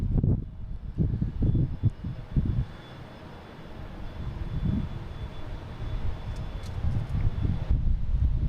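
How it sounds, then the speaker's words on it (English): American Airlines jet taking off at Boston Logan International Airport, a distant low engine roar with wind buffeting on the microphone, swelling and fading unevenly. "Just had an American takeoff."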